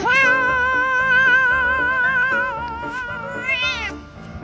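A cat gives one long, drawn-out meow that bends in pitch and rises again near the end. It is loud and close, with a faint low rumble underneath and no talking.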